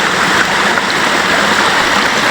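Creek water flows steadily after rain, a continuous broad rushing wash at moderate level with no gaps and no voices.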